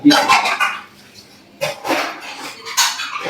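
Dishes and utensils washed at home: bursts of clattering metal pots and scraping steel vessels, loud and close, with a quieter gap in the middle and no one speaking.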